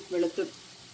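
Onion and green chilli with crushed ginger and garlic sauté on low heat in a pan for Kerala chicken ada, giving a short, soft sizzle with two brief swells of frying noise.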